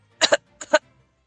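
Two quick pairs of harsh coughs close to the listener, short bursts separated by a brief pause in otherwise quiet surroundings.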